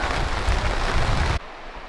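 Heavy rain pours down at a campsite, a dense, loud roar that cuts off abruptly into a much quieter background near the end.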